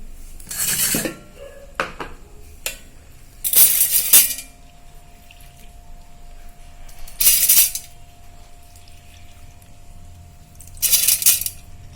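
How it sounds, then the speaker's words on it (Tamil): Whole wheat grains swish and rattle in water in a bowl, in several separate bursts of scraping and sloshing with quiet gaps between. "தண்ணி விட்டு நம்ம கழுவுறோம்."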